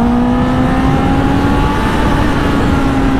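A four-cylinder motorcycle restricted for the A2 licence, with its rev limiter set at 10,000 rpm, holds a loud, close, high-pitched engine drone that climbs slightly and stays pinned for the whole stretch.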